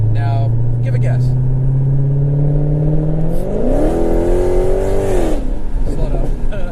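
A Dodge Hellcat in 500 horsepower mode hums at a steady low engine note from inside the cabin, then climbs in a rising rev before settling, with talk running over it.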